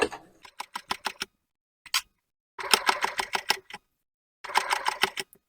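A sewing machine stitches along the zipper tape of a fabric pouch in three short runs of rapid, even needle clicks, close and clear, with brief pauses between the runs and no talking.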